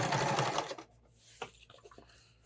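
A sewing machine stitches a fabric tool storage roll, with the buckles moved clear of the seam: a loud, close burst of running stitches for under a second, then quieter handling and scattered small clicks.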